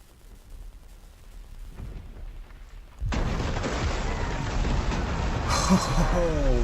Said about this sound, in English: Can hear the dragon fire.